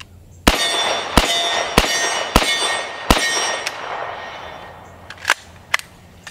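Bullets strike an AR500 steel target plate outdoors, five sharp metallic clangs at roughly half-second to one-second intervals with ringing tails, followed by a few fainter pings, no talking.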